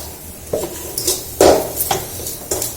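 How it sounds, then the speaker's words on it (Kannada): Onions fry in a pan at home. A utensil scrapes and clinks against the metal in a handful of short, separate strokes, with a faint background hiss. "ಈರುಳ್ಳಿ ಹುರ್ಕೊತಾ ಇದ್ದೀನಿ"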